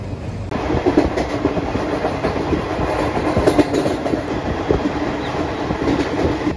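A Puri-Tirupati Express train runs on new, continuous tracks with a dense, steady rumble and clatter of wheels heard from on board, alone and without pauses.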